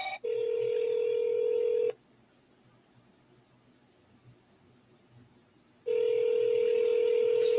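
A telephone line gives two long, steady electronic tones, each nearly two seconds, separated by a few seconds of quiet hiss, like a call ringing out or a dial tone, with no speech over it.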